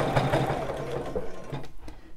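Sewing machine stitching a bra in short, uneven bursts of close, moderate whirring with brief pauses.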